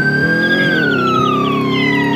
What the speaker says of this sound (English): I can't turn off the siren apparently.